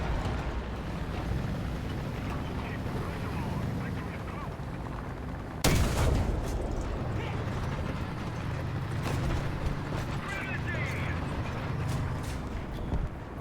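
Artillery barrage landing in War Thunder with a sharp, loud blast near the middle over a steady rumble of tank engine and battlefield noise, with a voice talking intermittently throughout.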